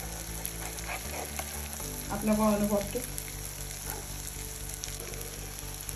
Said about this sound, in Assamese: আৰু অলপ দেৰি ভাজিম তাৰপিছত আকৌ এবাৰ ওলটাম